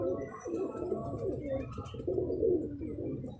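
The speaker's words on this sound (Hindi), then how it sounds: "ये जी मेरा ब्रीडर कबूतर है" A breeder pigeon coos softly and close by, a low throaty burbling repeated several times over a few seconds, with no talking.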